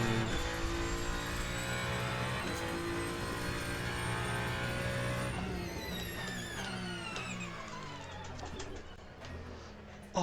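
GT race car in the endurance racing game Le Mans Ultimate roars past with a loud, tonal engine whine that holds steady, then drops in pitch as it moves away, layered over the player car's own engine drone.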